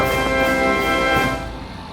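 A small plane's piston engine runs at steady power during a pre-takeoff run-up check, a loud buzzing drone rich in harmonics that drops slightly in level near the end.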